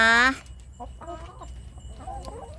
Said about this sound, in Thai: ไก่น่ารักมากเลย